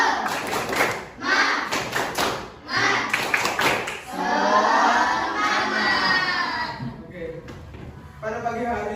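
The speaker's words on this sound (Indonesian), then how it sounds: "Coba kita sama-sama tepuk semangat terlebih dahulu, ya, semuanya." Children do a rhythmic group clapping cheer, the 'tepuk semangat', in a primary-school classroom, with bursts of claps in a patterned beat, then a stretch of kids shouting together, and a teacher's voice heard in between.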